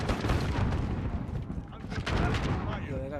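An AA-12 shotgun with explosive rounds fires in the video game Modern Warfare, a dense, loud burst of rapid booming blasts that carries on continuously, with a short dip midway before the firing resumes.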